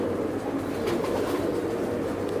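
Kasuri breed pigeons with red eyes coo softly in a steady, continuous murmur close by, the low rolling calls overlapping without pause and no voices present.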